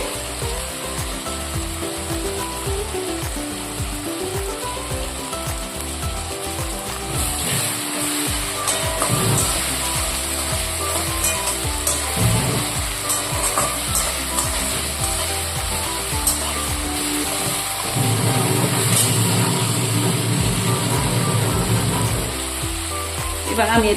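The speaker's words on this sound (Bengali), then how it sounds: "দেখুন মশলাটা আমার কষে গেছে। টমেটোটা আমার নরম হয়ে গলে গেছে।" Tomato spice masala fries in a pan for a homemade Bengali dish, giving a steady, close sizzle and crackle that runs unbroken and fairly loud, with no talking over it.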